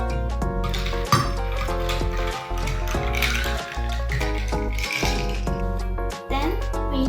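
A cocktail being mixed in a shaker for a baby blue and pink drink: loud, steady rattling and clinking of ice against metal and glass, with brief pauses between bursts, close up and without talk.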